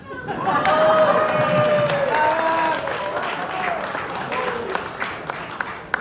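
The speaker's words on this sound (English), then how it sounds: "That applause is for you, Nate." A gala audience applauds steadily, the clapping fading out over a few seconds while someone speaks over it.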